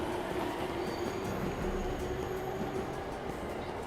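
A train rolls steadily past a station platform in the video game 13 Sentinels: Aegis Rim, with a continuous dense rumble, faint wheel squeal and a level roar throughout, no talking.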